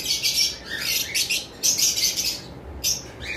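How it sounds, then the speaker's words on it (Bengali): Bright, repeated chirps and squawky calls from lutino cockatiels come in bursts, several overlapping, fairly close and loud with no talking. "আরেকটা পেয়ার লুটিনো কোকাটেল দেখতে পাচ্ছেন"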